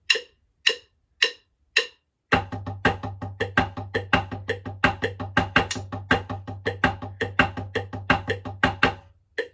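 Four evenly spaced count-in clicks lead into a snare drum accent pattern played up close, with rapid sharp strokes and louder accents over a low sustained tone. There is no talking.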